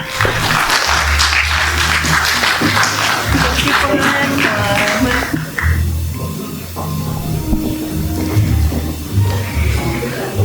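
Loud, sustained applause from a large audience at a safety forum panel session fills the room, with a steady wash of clapping that continues for several seconds before thinning slightly.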